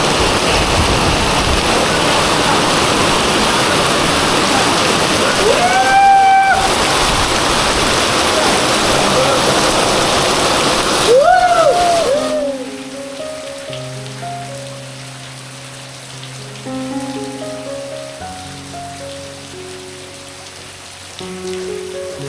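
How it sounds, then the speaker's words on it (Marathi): Heavy monsoon rain pours down steadily in a green Konkan village, a loud, dense hiss that fills the air before easing to a softer patter, with brief voices and background tones during the lighter stretch. "खतरनाक पाऊस आहे"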